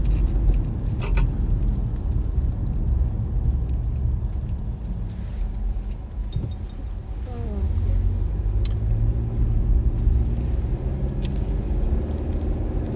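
Steady low road rumble from inside a moving car, continuous engine and tire noise with occasional faint clicks and rattles.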